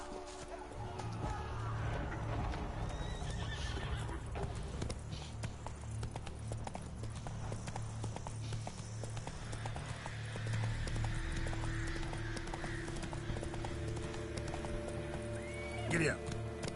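A horse gallops with steady rhythmic hoofbeats and neighs in The Witcher 3, the clip-clop continuous and fairly loud, with a person talking over it and ambient game music underneath.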